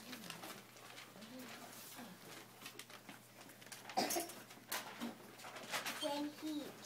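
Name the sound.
small bird cooing in a hat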